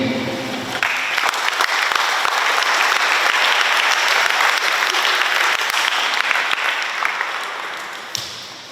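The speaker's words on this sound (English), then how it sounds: "Can we give him another cheerful round of applause?" Loud, full audience applause at a student takeover day event, a dense continuous roar of clapping that swells quickly, holds steady and then fades near the end.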